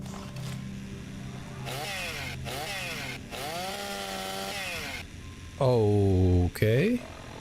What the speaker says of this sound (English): It is just a chainsaw.